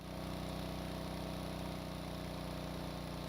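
A boat engine idles in Stormworks, a low, steady mechanical hum with an even pulse, holding constant and fairly quiet.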